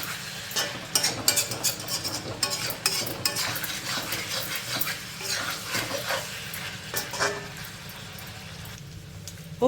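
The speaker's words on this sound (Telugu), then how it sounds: "ఈ విధంగా మనం కలుపుకుంటూ మంచి కలర్ వచ్చే వరకు ఫ్రై చేసుకోవాలి." Chicken is stirred and fried in a pan. A utensil scrapes and clinks against the pan in repeated strokes over a low, continuous sizzle, close and fairly loud.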